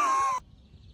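A single loud, harsh bird caw rings out close by, lasting under half a second before cutting off into near silence.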